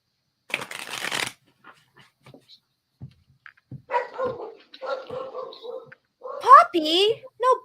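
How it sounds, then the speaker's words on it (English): A puppy yips and barks in a short burst of high, squeaky calls near the end, following a quick riffle of tarot cards being shuffled and light talking in the room. "No barking puppy."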